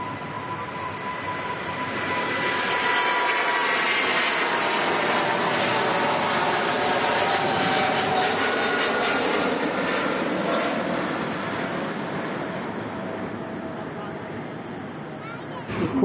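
An Airbus A380 jet on the morning service from Dubai passes at Manchester Airport, a loud, broad engine roar swelling in after two seconds, holding steady with shifting whine, then slowly easing off.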